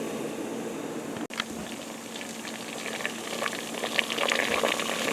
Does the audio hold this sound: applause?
no